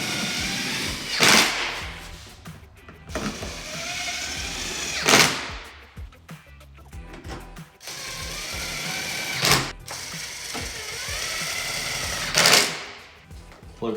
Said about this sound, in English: Reinstall our T25 bolts.